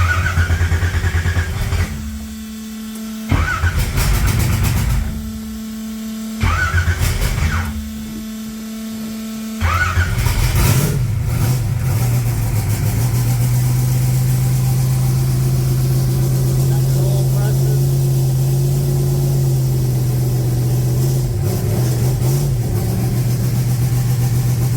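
A 1980 Pontiac Trans Am V8 cranks in several short bursts of starter whir, then catches at about ten seconds and settles into a loud, steady, rumbling idle that continues to the end.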